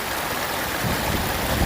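Water rushing and churning through a gold sluice box set in a choppy stream, a steady broadband wash that swells slightly louder partway through, close and continuous with no voices.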